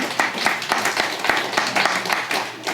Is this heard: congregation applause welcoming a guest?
yes